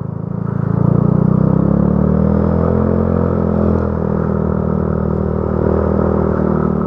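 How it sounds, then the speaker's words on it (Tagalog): A Yamaha Aerox motor scooter on the move, its engine droning loud and steady close by with a slight rise in pitch at the start, joined by continuous road and wind noise. "Aerox na yung dala kong motor."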